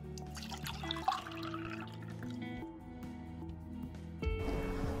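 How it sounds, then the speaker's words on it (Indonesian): Warm water, cooled to about 60 degrees Celsius, is poured into a vessel for a turmeric, honey and black pepper drink, a soft liquid trickle and drip that is faint and close, with no talk. "Kita bisa tuang airnya."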